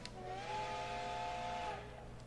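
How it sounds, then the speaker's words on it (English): Several airship steam whistles blow together at the start of a race in the video game Code: Realize ~Bouquet of Rainbows~, a loud chord of sustained tones lasting under two seconds, then fading. "The airships taking part in the race all sound their whistles at once, as if to cheer themselves on."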